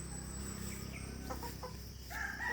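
Sweater pullets, young hens, making soft scattered clucks and short calls over a low, steady farmyard background, with a sharper burst of calls near the end.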